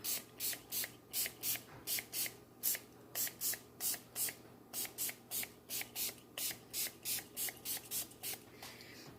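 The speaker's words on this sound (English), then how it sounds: "we're going to give them a spray with the rubbing alcohol" A spray bottle pumps rubbing alcohol repeatedly in quick bursts, about twenty hissing sprays in a steady rhythm, close and fairly quiet.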